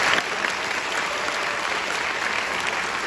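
A school concert audience applauds the trombone players, giving steady, dense clapping that fills the whole stretch at a fairly loud level, with no voices heard above it.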